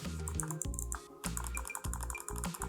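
Bloody ES7 gaming mouse buttons clicking, close up: a quick series of sharp, crisp clicks in an uneven rhythm.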